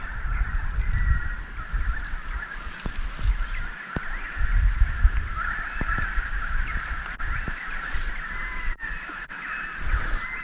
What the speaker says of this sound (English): Birds are going absolutely nuts out here tonight.